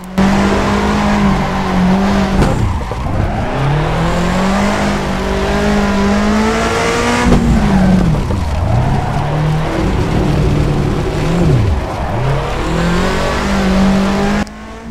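A rally car in a racing video game revs hard and loud without a break, its engine pitch dipping and climbing through gear changes and handbrake cornering, with faint tire noise.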